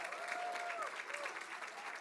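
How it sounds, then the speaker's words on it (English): An audience applauds and cheers for award finalists at a live awards event, with a steady wash of clapping and a few whoops rising above it. It sounds like a sizable crowd heard from a moderate distance. "let's hear a huge cheer for all of our finalists"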